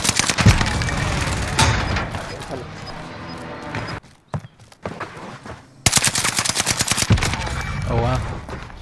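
NZ41 rifle gunfire in the video game Warzone, during a solos match: loud bursts of shots and game effects fill most of the clip, dropping into a quieter stretch midway before the firing resumes.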